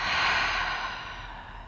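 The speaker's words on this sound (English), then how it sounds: "Take one deep breath here through the nose. And exhale through the mouth." A single deep breath exhaled through the mouth during a yoga session, a soft, breathy whoosh close to the microphone that fades gradually over about two seconds.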